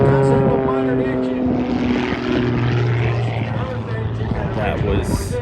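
Propeller aircraft with a modern engine flying aerobatics at a World War 2 weekend airshow, pulling vertical and into a torque roll; a loud, continuous droning engine roar with shifting pitch, heard under a commentator's voice.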